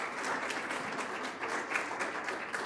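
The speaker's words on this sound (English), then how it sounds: "Round of applause." Audience applause at a town hall meeting for AP and IB students, steady dense clapping from a crowd lasting throughout, moderately loud and unbroken.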